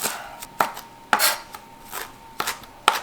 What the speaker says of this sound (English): I'm going to give the parsley a rough chop, so I'm just going to roughly chop it up